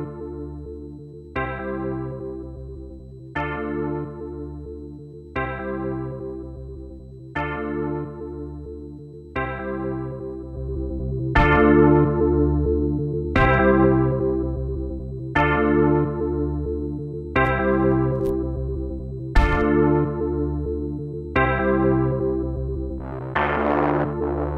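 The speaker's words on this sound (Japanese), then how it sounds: "音もサチュレーターなんでね、ちょっとあったかめの歪みが加わるよという感じになってます" Sound processed through an Ableton Live Saturator adding warm distortion: a repeating pattern of struck, harmonically rich tones about every two seconds, each decaying, with a fuller, gritty texture building toward the end; no voices.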